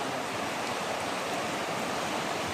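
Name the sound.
strong flowing floodwater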